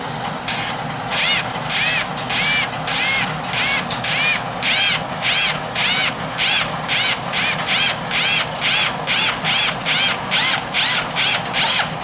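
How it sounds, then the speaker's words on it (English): A power drill boring a hole, heard as a rapid series of rhythmic bursts with a whirring, ratcheting edge, repeating evenly and loudly at close range with no talking. "Let me drill you a hole."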